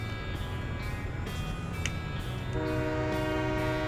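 A steady, sustained train horn in the video game Farming Simulator 17 plays alongside a continuous rumble of rolling rail cars, with a second horn tone joining midway and holding to the end.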